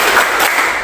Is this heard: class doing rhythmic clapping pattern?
yes